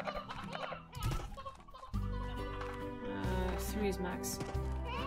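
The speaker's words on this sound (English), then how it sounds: "So many roosters." Chickens cluck in the video game Slime Rancher, with several short fowl calls scattered over steady game music while a person talks over them.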